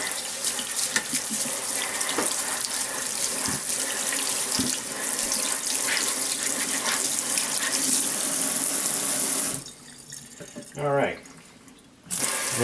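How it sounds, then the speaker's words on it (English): A PEI 3D printer build plate is rinsed under a running household tap, a steady loud splashing stream of water that breaks off near the end, followed by a brief quieter spray. "Rinse this off a little better."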